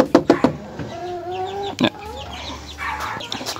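Small laying hens cluck close by in short sharp bursts and a few drawn-out calls, while a person speaks between the clucks.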